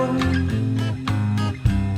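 Soft, romantic slow-dance song with a gentle sustained melody over a steady beat, played alone with no talking.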